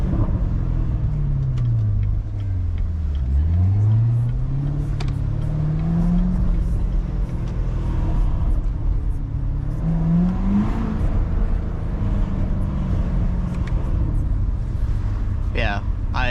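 A Porsche GT3 passes close by with a loud, low exhaust rumble and engine note that sweeps down and then climbs again, popping and burbling as it goes, while people talk over it.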